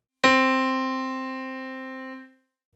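A single piano note struck once, clear and isolated, sustaining and slowly fading for about two seconds before cutting off.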